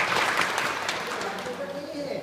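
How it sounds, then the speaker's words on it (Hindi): Brief applause from an audience at a motivational talk, a short burst of clapping crowd noise for a young student, mixed with a voice speaking over it. "इनके लिए तालियां बजाएं"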